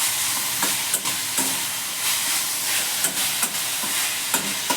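Bathua (beto) greens frying in a pan, a continuous close sizzle broken by repeated scraping stirs at an uneven rhythm, with no talking.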